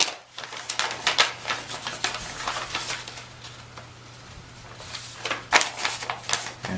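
Scissors or a blade cutting along a creased fold of paper, giving dry snips and rasping strokes up close, with a steady low hum underneath and no voices.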